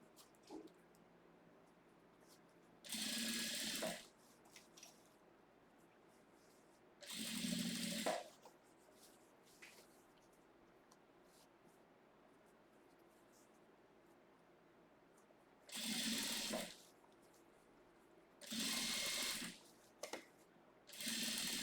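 A sewing machine stitching a lining along the edge of a fabric basket case, running in four short bursts of about a second each, separated by quiet pauses with faint handling noise, close and moderately loud.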